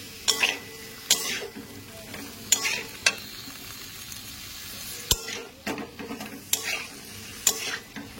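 Boiled green banana and potato are stirred into a spice masala in a pan, giving a string of scraping, clattering spoon strokes at an irregular rhythm over a faint sizzle, close and alone with no talking.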